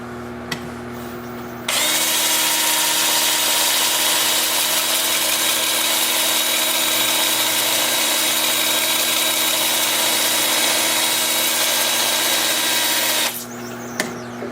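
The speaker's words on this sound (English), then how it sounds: "I'm going to start the sanding in reverse with my 2-inch sanding disc" A steady, loud whirring grind of a 2-inch, 80-grit sanding disc against an oak-root bowl spinning in reverse on a lathe at 350 RPM runs unbroken for over ten seconds, then cuts off abruptly.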